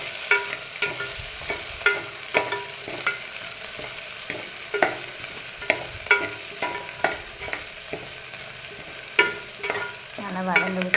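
Red chilli and other ingredients being sautéed in a pan for paruppu sadam, with a steady rhythm of spatula scrapes and stirring knocks over a soft sizzle, close and fairly loud, no voices.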